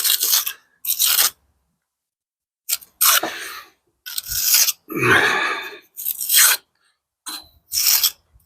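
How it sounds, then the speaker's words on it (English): An old Roman trowel scrapes and rasps against a mortar-heavy joint in short, gritty strokes, about eight bursts separated by brief pauses, close and fairly loud with no talking. "So we're using the old Roman trowel there at the moment."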